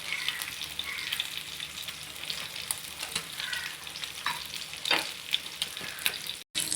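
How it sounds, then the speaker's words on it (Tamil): Sardine fish frying on a flat dosa pan, giving a steady, close crackling sizzle with bursts of spattering and the occasional scrape as the fish is turned. "திருப்பி போட்டு சீக்கிரத்தில் ஃப்ரை ஆகிடுங்க அந்த மீன்."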